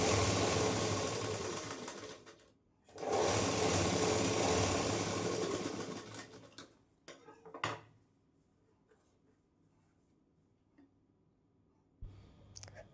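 Sewing machine running a long stitch through blouse fabric, two loud sustained bursts of fast mechanical whirring close by, followed by quieter clicks and handling noises.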